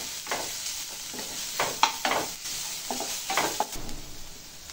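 Green chillies and ginger garlic paste fry with onions in a pan for an Andhra-style dish, a steady close sizzle broken by repeated scraping stirs, no voices.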